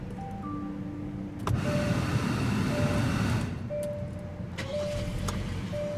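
A 2017 Hyundai Sonata SE with a 2.4 liter 4-cylinder engine and push-button ignition, starting with a sharp burst then settling into a steady muffled idle heard from inside the car, with faint beeps and clicks scattered throughout.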